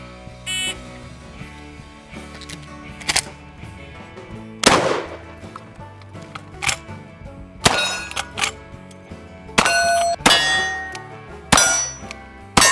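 A shotgun fires during a shooting scenario in El Dorado County, mixed with sharp metallic clangs. The loud, sudden bangs come one after another at irregular intervals, with short quiet stretches between them.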